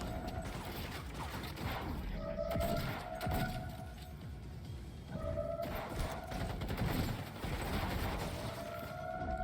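Rapid gunfire bursts in the video game Cyberpunk 2077, repeated automatic volleys with mechanical clatter and tonal game effects, loud and continuous through the scene.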